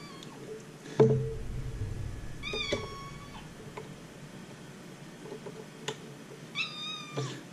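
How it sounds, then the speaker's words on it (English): A house cat meows and yowls in the background, sounding several separate drawn-out cries spread across the stretch, with a brief thump early on and a quiet room tone throughout. "you hear my cat in the background yelling at me for not going to bed yet"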